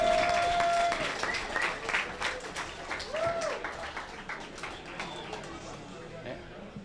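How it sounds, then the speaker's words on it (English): An audience claps after a match at a submission-only grappling event in Las Vegas. The applause is a dense, lively patter with a few whistles, and an announcer speaks over it before it fades. "that match was worth at least 2 rounds of applause"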